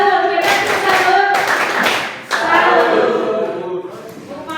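Schoolchildren in an Indonesian classroom clap together in a loud rhythmic cheer for a group that built a tower, with voices chanting along over the steady claps.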